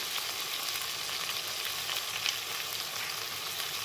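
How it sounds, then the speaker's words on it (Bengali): Chicken pieces frying with salt in a pan for a low-oil diet chicken biryani give a steady, close hiss of sizzling that stays even throughout, with no voices. "দিয়ে এটাকে খুব ভালো করে আবার ভেজে নেব।"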